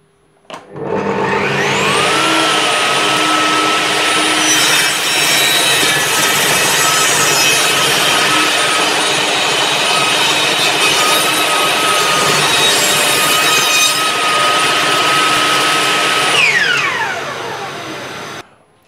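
A Bosch GTS 10 XC table saw making a 45-degree bevel cut in wood: a loud, close motor whine spins up, holds a sustained rasping cut for about fifteen seconds, then winds down, with no talking.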